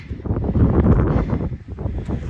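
Strong wind buffets the microphone in a low, rumbling roar, gusting unevenly over a couple of seconds, on a frosty mountain trail on Śnieżka.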